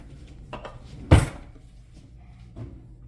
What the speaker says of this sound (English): get a tablespoon from the cupboard/drawer.